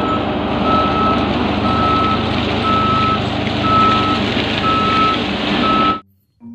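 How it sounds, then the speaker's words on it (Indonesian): Toy cement mixer truck giving repeated evenly spaced reversing beeps over a loud, steady motor whir, with no voices, cutting off near the end. "ada mobil silinder besar,"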